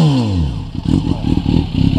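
A Yamaha FZ6 or Kawasaki ER6 motorcycle engine revs up close and loud, its pitch falling off the throttle into a burst of rapid crackling exhaust pops and burbles on deceleration.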